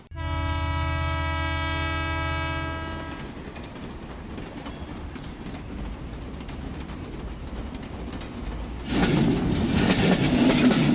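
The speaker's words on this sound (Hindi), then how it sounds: "ये कराची का आखिरी स्टॉप है, ट्रेन जहाँ से आगे कहीं नहीं जाती।" A train arrives at its last stop in Karachi: a long, loud horn blast opens, then gives way to a steady rolling rumble of wheels and carriages that swells louder near the end.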